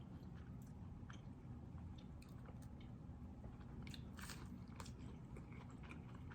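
A McSpicy chicken sandwich and Spicy McNuggets being eaten up close, with soft crunchy bites and wet chewing repeating through a quiet room.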